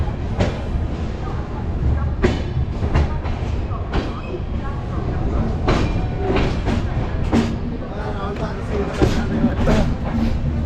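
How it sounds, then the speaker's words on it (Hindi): Local train pulling out of Jammu Tawi station, a steady rumble of rolling carriages with intermittent clanks and knocks throughout, continuous and moderately loud, with voices talking at times. "ऐसे ही देखते देखते हमारी ट्रेन यहाँ से जो है रवाना हो गई जम्मू तवाई से"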